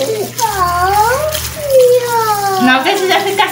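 Running water from a tap or bath filling while children's hair is washed, a steady splashing under a woman's close, rising and falling voice, with someone speaking briefly.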